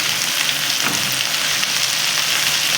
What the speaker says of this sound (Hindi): मैं जिंजर गार्लिक का पेस्ट डाल दूंगी, और मैं इसे अच्छे से चला लूँगी। ज़रा सा क्रैकल आना स्टार्ट हो जाएगा।